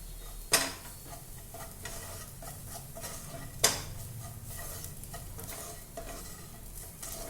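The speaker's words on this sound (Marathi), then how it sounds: "धने पावडर आणि आपल्याला हे छान मिक्स करून घ्यायचं आहे" A spoon stirs spices and coriander powder through potato and pea bhaji in a pan, producing a soft, repeated scraping and gentle sizzle, punctuated by two sharp clinks of the utensil against the metal.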